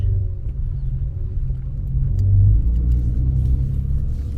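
Heard from inside a stroker-engined Acura TL as it drives and turns around, a deep steady engine and road rumble swells briefly as it pulls away, with no talking.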